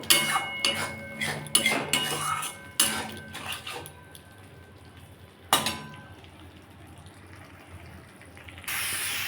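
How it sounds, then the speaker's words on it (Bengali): Katla fish curry masala being sautéed and stirred in a pan, with rapid metallic scrapes and clinks of a spatula for a few seconds, then a lone knock, quieter simmering and a rising hiss at the end. "এটা আমি আবার ভালো করে একটু কষিয়ে নেবো"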